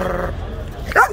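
A dog at a Moroccan guard dog market gives a single short yip or bark near the end, while someone talks over a busy market background.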